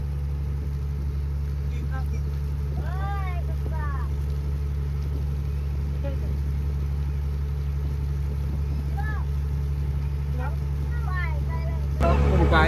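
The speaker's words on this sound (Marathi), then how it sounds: "पाठी बोटीचा आवाज खूप आहे" A boat engine drones steadily nearby with a constant low hum that continues throughout, while faint bird calls and other sounds come and go above it.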